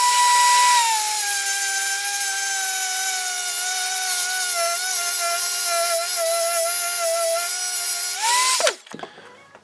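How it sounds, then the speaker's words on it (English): Carbide bits and sandpaper rolls on a high-speed rotary grinder port a Piaggio moped engine, giving a loud, steady whine held for about eight seconds before it spins down and stops, with no talking. "my carbide bits and some sandpaper rolls to make it smooth"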